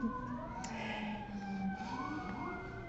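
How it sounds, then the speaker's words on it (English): A siren wails steadily at moderate distance on a Manhattan street, its pitch sweeping up and down over low traffic rumble. "That is sirens because this is Manhattan."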